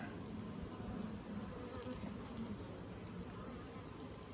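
Honey bees swarm over a hive frame of drone brood during a hive inspection, their dense steady buzzing droning continuously at close range and fairly quietly, with no talk heard.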